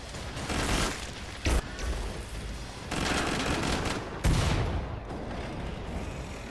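Full-auto fire from a SWAT-build gun in Killing Floor 2 comes in several loud rapid bursts separated by short quieter gaps, with game background noise throughout.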